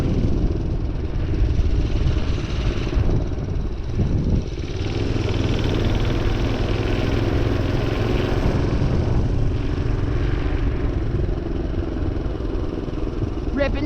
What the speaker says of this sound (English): Ripping the mini bike.